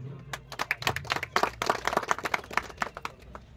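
An audience at a prize announcement for a village stage competition claps loudly, a dense burst of sharp individual claps up close that flares and then thins toward the end.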